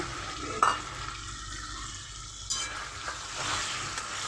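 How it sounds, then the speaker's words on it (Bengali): Chicken being stirred in a pan of frying masala with ginger-garlic paste, a steady low sizzle under a few scraping spoon strokes and one sharper clink near the start. "ভালোভাবে নাড়াচাড়া করে নেব এবার জানেন মশলাটাকে ভালোভাবে কষিয়ে নিতে হবে"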